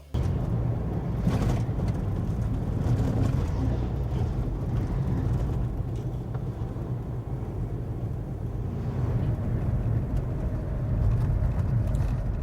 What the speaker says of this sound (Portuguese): Esses caminhões que estão passando aí agora estão todos carregados de soja